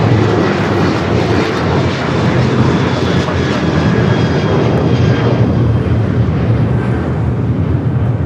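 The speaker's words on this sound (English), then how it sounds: "Sun Country and then hybrid livery 737-800 now rolling down to 25 left heading to Kona" A Sun Country Boeing 737-800 in hybrid livery takes off from runway 25 left at LAX, a loud, sustained jet engine roar with a steady broadband rush and a faint whine over it.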